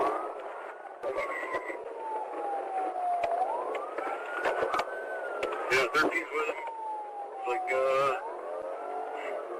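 Sheriff police car siren wailing in long rising and falling sweeps during a chase, moderately loud beneath radio chatter and someone talking, with clicks and static bursts breaking in.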